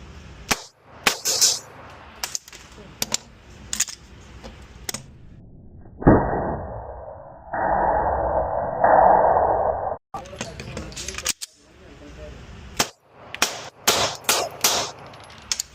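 Sharp 9mm pistol shots crack out in a quick irregular series at the start and again near the end, with a steady hiss filling the pause between.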